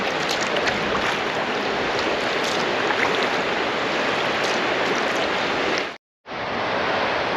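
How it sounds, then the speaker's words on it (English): Water pours over the edge of a spillway at Lake Junaluska in North Carolina, a loud, steady rushing close by that runs without pause except for a brief dropout near the end. "Water just goes literally right over the edge right there"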